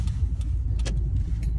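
Car interior on the road, with a steady low engine and road rumble throughout and a few faint higher rattles on top, no talking.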